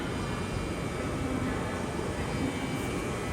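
ICE high-speed train pulling in at a station, a steady loud broadband rumble and rush that holds evenly throughout, fairly close, with no talking over it.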